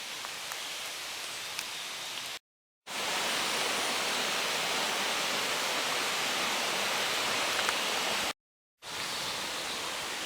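The flooded Oil Creek rushes past in a loud, steady broadband roar of churning water, heard from the trail above the bank, briefly cut twice.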